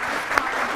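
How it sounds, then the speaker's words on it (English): A brief burst of applause from a small group, steady clapping with a couple of sharper claps standing out, lasting under a second. "Let's give Tom a little round of applause."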